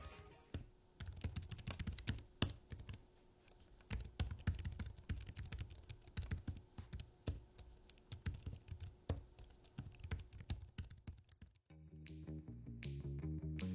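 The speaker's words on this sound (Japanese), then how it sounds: "これが実際のタイピング音" Close, steady typing on a compact mobile keyboard for an iPad Pro, with rapid crisp key clicks and occasional heavier strokes running throughout, ending in a brief change of tone near the end.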